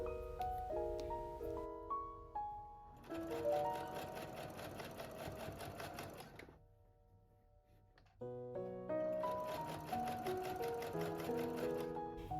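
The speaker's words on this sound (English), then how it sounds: "Then fold it again and sew it again." A sewing machine stitches a folded seam on a midi skirt, running in two loud, close bursts of rapid whirring clatter with a quiet pause between them.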